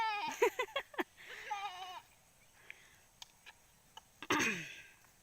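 A goat lets out a wavering bleat, followed by a second shorter cry later, amid quiet background with occasional clicks.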